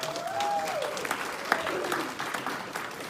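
Audience applause at a Texas county event, a steady wash of many hands clapping throughout with a few sharper claps standing out and a voice faintly audible beneath.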